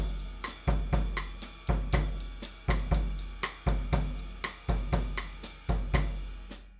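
A drum kit plays a bossa nova groove with the bass drum too heavy: booming low kicks land in a steady, lopsided pattern under eighth-note hi-hat ticks, loud and close with no voices.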